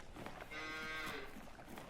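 Cows moo at the cow farm in Farming Simulator 19: a long, drawn-out bovine low over a steady farmyard ambience, faint and without talk.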